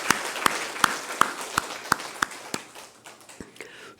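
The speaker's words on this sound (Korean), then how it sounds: "크게 박수로 환영하겠습니다." Indoors at a Sunday church service, a congregation claps in welcome, a series of sharp evenly spaced claps that thin out and fade into scattered quieter clapping.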